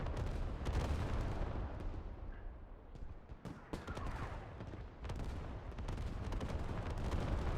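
Artillery fire in a multiplayer war video game during a competitive match, a dense stream of booming shots and blasts layered over one another, loud and continuous with sharp cracks breaking through.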